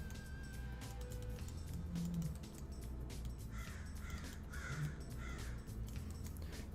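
Several crows caw in a series of harsh, raspy calls, clustered in the latter half, over continuous outdoor background noise.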